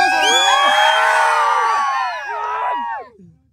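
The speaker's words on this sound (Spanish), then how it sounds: "El grito más fuerte es el que gana." A large crowd at a live event in Huehuetenango, Guatemala, shouts and cheers loudly to vote for Farruko, a dense sustained roar of whoops and yells that fades near the end.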